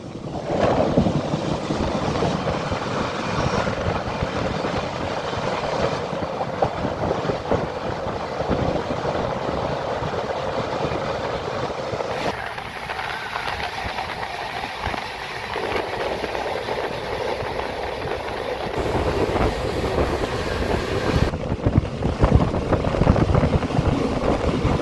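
The 13151 Kolkata Jammu Tawi Express runs steadily, a loud, continuous rumble of wheels and carriages with rattling and wind noise that never lets up.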